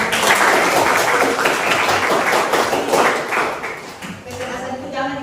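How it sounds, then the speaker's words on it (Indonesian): Classroom applause from a group of students, a dense steady patter of many hands clapping close by that thins out toward the end, with some voices mixed in. "Oke, kasih tepuk tangan."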